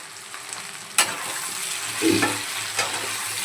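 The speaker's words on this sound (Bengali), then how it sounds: "আবারও সে বোম ফাটলো বোম লঙ্কা ফাটলো" Dried chilies frying in oil with potatoes, with a sharp pop near one second and another small burst after two seconds over a steady, low sizzle.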